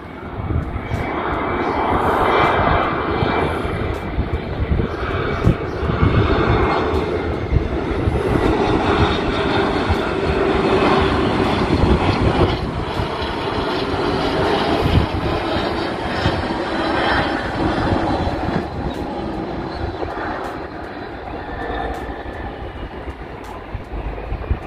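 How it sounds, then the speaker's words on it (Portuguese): A jet aircraft landing at Sorocaba airport in Brazil produces a loud, sustained engine roar that swells and holds for the whole stretch, with no talk over it. "O pessoal vai pousando mais um jato aqui no aeroporto de Sorocaba"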